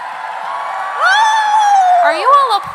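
A live podcast audience in New York cheers and whoops, with a loud rising crowd shout and a few excited high voices over steady background noise.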